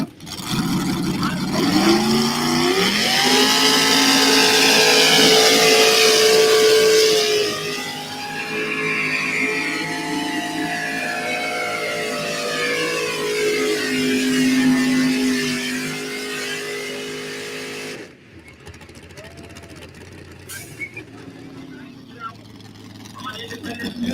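A two-wheel drive pulling truck in the 5,200-pound class revs loud and close at a Zellwood, Florida truck pull, its engine note rising and holding for most of the stretch, then cutting off to quiet near the end, with an announcer talking over it.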